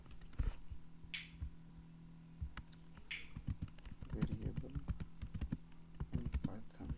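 Typing on a computer keyboard while writing Python code, irregular clicks and clusters of keystrokes up close, with a couple of sharper bursts and someone speaking softly at times.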